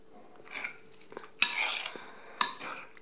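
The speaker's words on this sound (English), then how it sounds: "Now we are going to give our salad a really good stir" A spoon scrapes and turns through a bowl of red potato salad with creamy dressing, giving soft wet squelches and two sharp clattering knocks against the dish, close and without talk.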